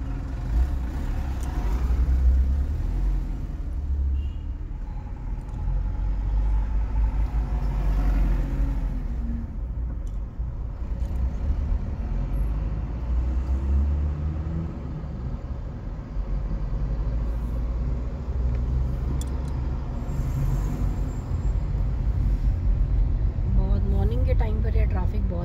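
Steady road traffic rumble on the Dubai–Sharjah highway heard from inside a vehicle creeping through congestion, a continuous low engine and tyre drone with someone speaking over it throughout.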